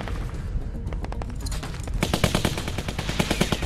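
Sustained rifle gunfire from an AK in the zombie survival game The Walking Dead Season 2, a continuous rattling automatic burst that grows louder and denser midway through, heard without talk.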